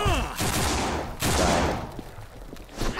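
Gunfire aimed at zombies in the video game No More Room in Hell, with rapid bursts of shots repeating across the clip, loud and close, alongside some voice.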